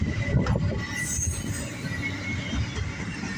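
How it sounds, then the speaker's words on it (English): A CSX southbound doublestack freight train rolls past nearby with a steady rumble of wheels on rail and a faint high squeal, no voices. "Southbound doublstack in action right now on Funky Friday on the railroad"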